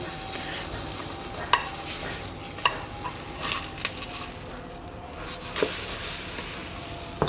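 A blueberry oat pancake sizzles steadily in a buttered pan, with a soft hiss throughout and several sharp spatula clicks and scrapes as it is flipped, close and moderately loud.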